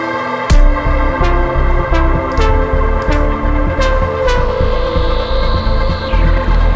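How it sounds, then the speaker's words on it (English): Electronic melodic breaks breakdown built in Logic Pro X, a dense loud synth-and-bass mix with steady throbbing pulses while filter and reverb send automation slowly open it up, a rising swept tone near the end, no voices. "There's some automations on the filter here, and there's another one on the reverb send here."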